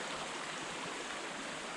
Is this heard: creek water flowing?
yes